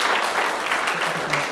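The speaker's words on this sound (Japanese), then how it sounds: "拍手の方お願いします。" Steady audience applause at a talk event in Fukushima, a continuous dense patter of many hands clapping at moderate volume.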